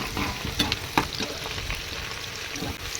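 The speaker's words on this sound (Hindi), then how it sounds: "तो ये अब हमारे प्याज थोड़े से लाइट ब्राउन हो गए हैं।" Onions turning light brown in a frying pan hiss steadily up close, with occasional scraping and tapping from stirring and no talk.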